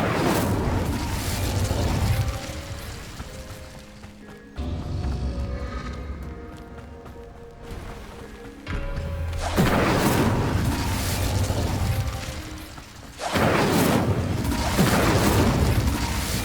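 Incendio fire spell in Hogwarts Legacy combat: loud booming bursts and rushing fiery roars come in several heavy surges, with brief quieter gaps between them.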